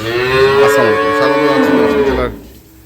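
A dairy cow on a farm lets out one long, loud, close moo that ends abruptly, leaving quiet.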